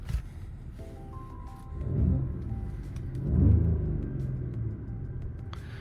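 Mercedes-AMG engine switched into Sport Plus drive mode, a low steady rumble that swells twice into brief revs before settling back, heard from inside the car with no talk.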